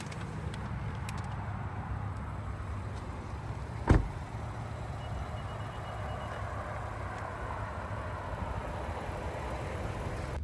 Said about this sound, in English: let's go ahead and see what this minivan is like to drive out on the road